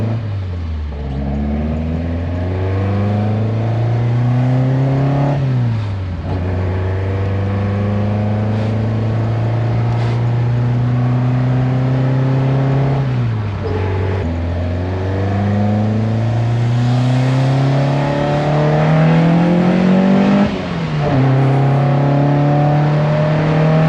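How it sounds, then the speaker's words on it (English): A Toyota KE70 Corolla engine runs steadily and close, rising and falling through several revs with a loose, tappety clatter in the motor, no talk over it. "the motor sounds real tappety"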